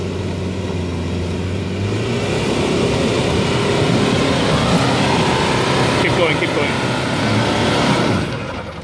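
A 4WD drives off-road at Mt Buffalo without its lockers engaged, its engine droning loud and steady with heavy rumble and cabin noise throughout, and people talking over it.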